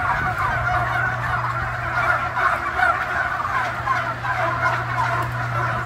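Turkeys on an Iowa turkey farm gobble and chatter as a flock, with a steady, crowded wall of overlapping calls close by and a constant low hum beneath.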